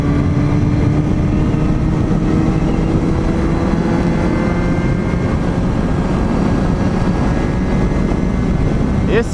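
Steady, loud roaring rumble of wind buffeting a rider on a Suzuki Bandit 650cc motorcycle in a diagonal crosswind, mixed with continuous engine drone and a faint voice talking underneath.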